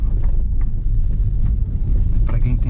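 A JAC E-JS4 electric car rolls down a dirt road slope, giving a steady low rumble of tyres on loose ground with occasional knocks and rattles, loud and close throughout.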